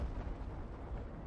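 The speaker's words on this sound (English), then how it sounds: "that explosion is being ray traced again in the whole environment" A V1 rocket explosion in Battlefield 5 gives a dull, heavy low rumble that stays fairly steady and moderately loud throughout, without a sharp attack and with no voices.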